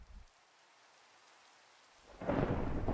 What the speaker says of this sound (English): Oh, sounds like it's raining outside.